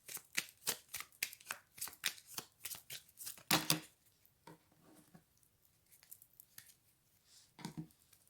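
Tarot cards shuffled by hand, a quick run of crisp riffling flutters and slaps up close, then a few softer, slower card shuffles and taps trailing off, with no talk.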